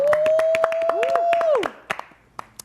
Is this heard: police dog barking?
no